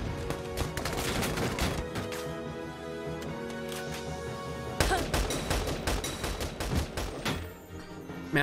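Sustained gunfire from an enemy grenadier in Valkyria Chronicles 4, dense rapid bursts and heavy impacts rolling on continuously with a louder surge midway, no voices.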